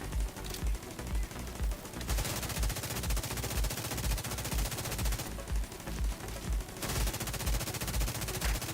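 Sustained automatic gunfire aimed at a tank enemy in The Division 2, loud and close, with a fast steady stream of shots running throughout.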